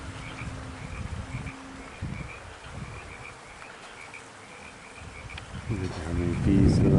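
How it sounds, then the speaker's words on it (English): Bees buzzing around blooming almond trees in a California orchard, a steady drone with several insects passing close by, rising louder toward the end against faint background sound. "Look at how many bees there are there."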